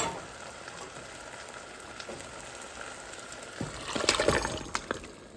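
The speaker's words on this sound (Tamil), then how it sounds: "புளி, தேசிக்காய் புளி கரைச்சி வச்சுருக்கிறேன். அதையும் விட்டு கொள்ளுவோம்." Tamarind and lime water poured into a pan of mutton leg pieces cooking with fennel powder, a brief loud splash and hiss of liquid hitting the hot pan after steady low sizzling.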